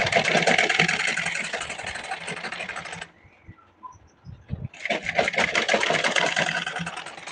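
A sewing machine stitches lace onto a blouse sleeve in rapid, buzzing runs, pausing for about two seconds with a few small clicks and handling sounds, then starting up again just as loud.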